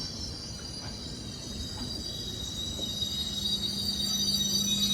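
The Diva–Sawantwadi Express stands at Sawantwadi railway station, humming steadily at the platform, a low, constant mechanical drone with faint background clatter, growing slightly louder toward the end.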